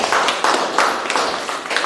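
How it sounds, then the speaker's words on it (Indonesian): An audience claps for two presenters in a teaching session, a brief burst of loud, close, bright hand claps with no talk over it. "tepuk tangan buat mereka berdua"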